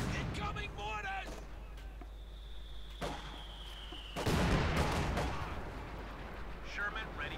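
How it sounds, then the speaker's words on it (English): Incoming mortar fire in the real-time strategy game Company of Heroes 2, with a descending whistle followed by a heavy explosive boom and rumbling aftermath, under battlefield ambience and a commentator's voice. "Incoming mortars."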